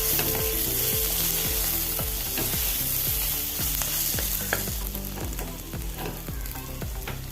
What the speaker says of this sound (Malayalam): ഇനി ഉള്ളിത്തണ്ട അരിഞ്ഞതും കൂടി ഇട്ട് ഒന്ന് മിക്സ് ചെയ്യുക